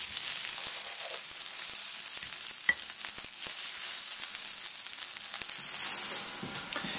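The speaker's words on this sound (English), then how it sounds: "Stir this together. This is a great fried rice." Fried rice with ginger sizzling in a pan while being stirred, a steady soft crackle with scraping and clinking stir strokes scattered throughout, no talking.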